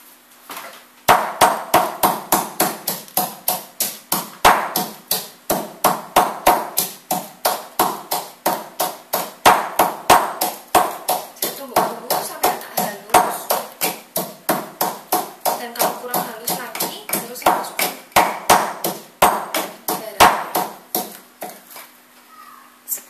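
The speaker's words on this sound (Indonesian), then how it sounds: "Saya tumbuk dulu cabai rawitnya." Bird's eye chilies pounded in a mortar with a pestle for a shallot sambal, a long run of rapid, steady thuds close up that keeps an even rhythm from start to finish.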